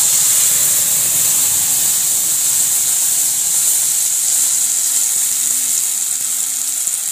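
Ground coriander and mint paste hitting hot tempering oil for a chutney, giving a loud, continuous hiss of steam and sizzle that holds steady throughout.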